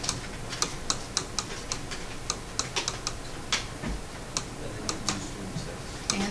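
Quick plastic key presses on a graphing calculator, a run of light, dry clicks in an uneven rhythm, close and fairly quiet over a steady background hiss, with no talking.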